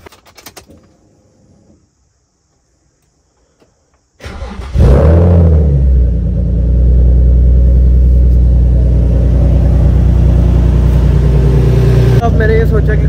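A Nissan 350Z engine cranks and catches after a few seconds of near silence, then settles into a loud, steady, close-up idle rumble that holds to the end.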